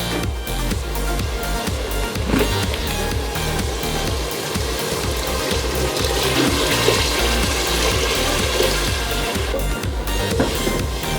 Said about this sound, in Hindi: अब हम इसमें थोड़ा पानी डालेंगे।